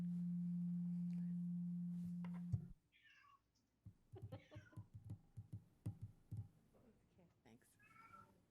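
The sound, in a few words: cat meowing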